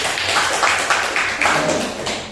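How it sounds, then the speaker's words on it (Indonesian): Classroom applause from a group of students, a steady run of mixed hand claps filling the room for a couple of seconds with no one speaking. "Oke, berikan aplaus dulu"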